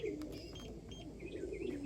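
Racing pigeons back from a 150-mile race in Statesboro, Georgia give soft, faint coos with a few light chirps, low and continuous in a quiet loft.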